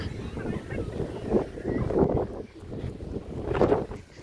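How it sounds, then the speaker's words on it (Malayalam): Steady wind buffets the microphone at a beach, a broad blustery rush with gusts swelling around the middle and near the end, loud and close throughout. "ഇവിടെ നല്ല കാറ്റുണ്ട്."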